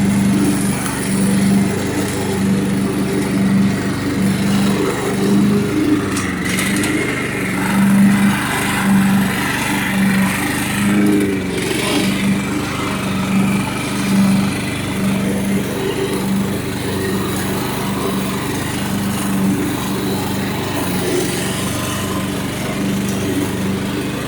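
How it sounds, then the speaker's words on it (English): A Craftsman lawn tractor engine runs steadily while mowing a yard, a loud, continuous, buzzing drone with slight fluctuations and no talking. "I've been mowing my yard with it for the past month"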